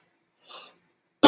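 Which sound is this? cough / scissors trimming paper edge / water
cough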